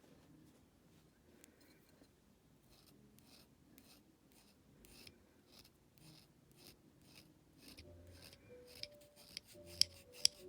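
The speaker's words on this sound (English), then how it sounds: "So you can see I am scraping in a thumbnail shape." Quiet, rhythmic scraping strokes as a knife shaves a double reed in a thumbnail shape, heard close up as short dry rasps, with a few sharp ticks near the end.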